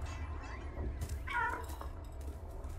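In the video game Stray, a cat lets out a single clear meow at mid-distance over a low ambient hum, with faint game sounds around it and no voices.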